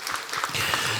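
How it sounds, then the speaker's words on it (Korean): A church congregation at a Sunday afternoon service breaks into warm applause, starting with a few scattered claps and swelling into a full, sustained round. "우리 박수로 뜨겁게 격려해 주시기를 원합니다."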